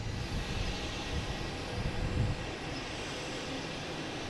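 A WestJet airliner lined up on runway 9 at Boston Logan International Airport makes a steady, broad jet engine roar with a low rumble. It is heard from a distance, with no voices over it.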